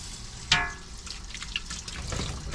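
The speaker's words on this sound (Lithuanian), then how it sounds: "karštas vanduo jau bėga" Hot water runs from the tap of an electric water heater readied before a trip, a soft close trickle and dribble with a brief splash near the start.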